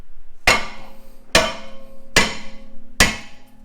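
Four sharp, loud metallic hammer strikes against a rusted brake rotor on a Kia Forte, evenly spaced about a second apart, each ringing briefly before fading, with no talking.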